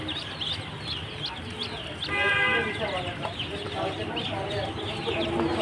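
Young Chinese ducklings, village-raised and about four days to a week old, peep in a busy cluster of short, high chirps that grow denser midway over a noisy background.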